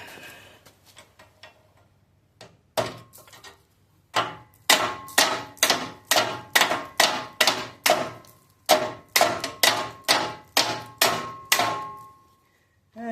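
A big hammer strikes a Ford Model A leaf spring, about twenty sharp metallic blows in a fairly steady rhythm after a few lighter taps, close and clear with no talk.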